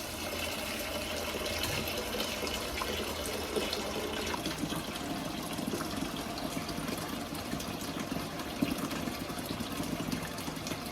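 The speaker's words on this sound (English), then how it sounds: "And now we're going to fill that to the brim with water." Water runs from a tap to fill a cooking pot to the brim for homemade pinto beans, a steady close rushing gush that holds unchanged throughout, with no voices.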